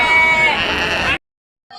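Ram lambs at a sheep and goat market bleat in a loud, close, wavering cry lasting about a second, followed by silence and a brief faint return of sound.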